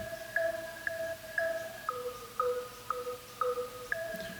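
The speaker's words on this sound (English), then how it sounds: "which again is another sound from that DX7 VST that I froze." A frozen synth part from a DX7-style FM plug-in plays soft, bell-like repeated notes in a slow stepping pattern, stepping down in pitch partway through, quiet and alone.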